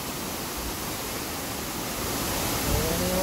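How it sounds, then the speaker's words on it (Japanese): Large volume of water pouring down a waterfall at Kiyomizu Falls in Ogi, Saga, a loud, steady broadband roar with no break, continuous throughout. "上の滝がすごいですよね"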